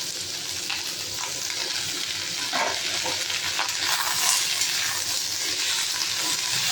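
Pointed gourd and ridge gourd fry and get stirred in a pan, giving a steady close sizzle with soft scraping movements throughout, no voices present.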